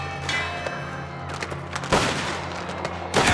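Bursts of gunfire in the video game Mafia: The Old Country, sharp blasts at about two and three seconds over a steady tonal game background and rumble.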